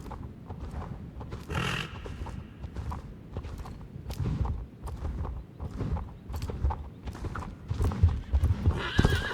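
Hooves of a show jumping horse entering an outdoor competition ring, with steady clip-clop steps and an occasional whinny under crowd and arena ambience.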